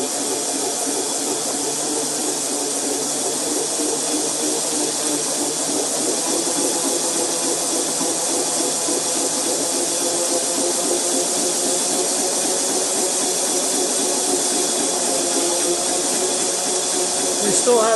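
Jim Murray's Dyna Flux toroid generator motor runs continuously at a steady speed with a loud, close whirring hum and hiss and a fast, even mechanical pulsing throughout.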